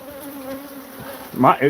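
Bees buzz with a steady, faint drone close by, followed by two louder, brief buzzing swells near the end as one passes closer.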